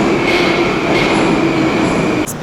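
A Moscow metro train runs loud and close at Novoslobodskaya station, a heavy steady rumble with a sustained whining tone from wheels and motors, shifting abruptly near the end.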